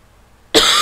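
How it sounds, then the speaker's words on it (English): A single sharp cough bursts out after half a second of near silence, loud and close, with a brief hoarse tail. "I had a cough."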